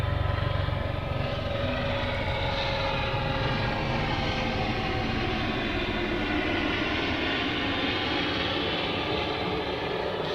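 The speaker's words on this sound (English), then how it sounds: "we've got a helicopter going overhead" A helicopter drones overhead above a garden, a broad whooshing rumble that stays constant throughout with no talking.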